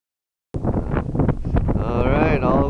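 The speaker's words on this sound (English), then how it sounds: "all the wind propellers show you how windy it is" Strong wind buffets the microphone on a coastal stretch of Olle Trail 13 near wind turbines, a loud continuous roar with gusting surges, while a person speaks faintly beneath it.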